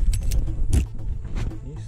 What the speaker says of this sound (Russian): Вытаскиваем ключи